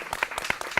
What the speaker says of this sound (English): You didn't give yourselves a big round of applause.